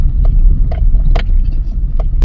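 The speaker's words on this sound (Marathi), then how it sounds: "आता आमची गाडी नदीतून जाणार आहे" A car drives into a river where the road runs through the water, its engine rumbling loud and low with a few sharp splashing or knocking bursts.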